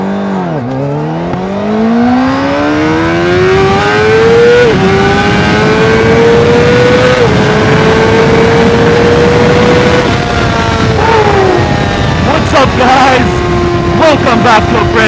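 A motorcycle engine revs up through rising gears, its loud exhaust droning close by, then drops and sputters with popping crackles toward the end.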